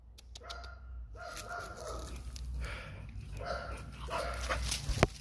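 A dog barks in a series of sharp, medium-distance yaps over outdoor noise and a low rumble, near a Staffordshire bull terrier being trained outside.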